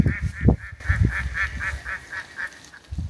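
A duck near a pond calls over and over in a steady run of nasal, honking quacks at close range, with low rumbling noise underneath.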